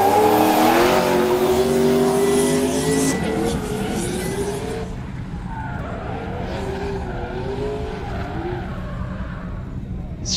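A Toyota GT86 Aisin drift car at the 2023 French Drift Championship howls past with a loud revving engine and long tire squeal that fade as it moves away.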